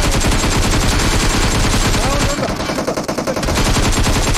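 Rapid automatic gunfire in the battle-royale game PUBG Mobile, loud and dense bursts nearly continuous, with a brief thinning midway before the firing resumes.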